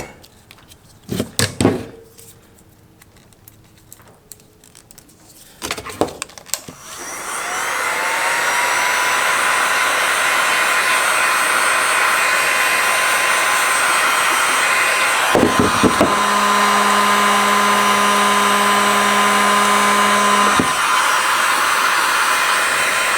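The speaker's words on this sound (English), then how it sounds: "We're gonna now hit the antenna with a little bit of heat." A heat gun warms vinyl wrapped on a cell camera antenna, starting with a few clicks and knocks, then a loud, steady blowing roar that runs continuously, close and alone.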